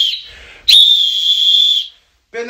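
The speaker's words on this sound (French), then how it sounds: "un sifflet d'arbitre." A referee whistle gives a short blast and then a long, loud, steady shrill tone held for over a second, heard close up with no talk.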